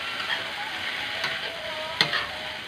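Lumpia filling being sautéed in a pan: a steady, close sizzle of frying food with occasional stirring scrapes and a sharper clink near the end, no voices.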